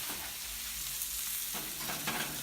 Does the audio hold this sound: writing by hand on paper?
no